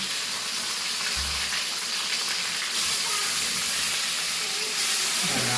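Onion, garlic, green chilies and tomatoes sizzle and hiss in a hot pan in a home kitchen, a loud, continuous frying crackle that fills the whole stretch with no talk.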